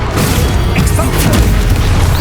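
An Expulso explosion spell in Hogwarts Legacy, heard as a loud, sustained blast with a deep booming rumble and crackling debris, close and filling the whole moment.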